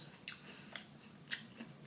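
Someone chews hazelnut crunch vegan chocolate bark with hazelnuts and cacao, giving a few quiet, sharp crunchy bites spaced out over a hushed, close background.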